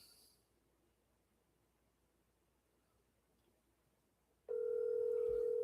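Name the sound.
telephone tone while phoning a friend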